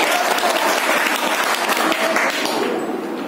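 An audience at a Rabindra Jayanti coaching-centre function claps for a dance performance: steady, dense applause filling the whole stretch and tapering slightly at the end.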